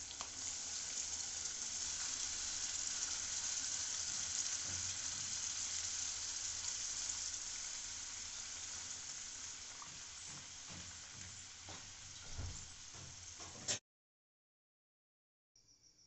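Masala sizzles steadily in a hot pan as fresh milk goes into the vegetarian potato biryani base, a loud, dense crackling hiss that carries on for most of the stretch, with a few clinks, before cutting off abruptly.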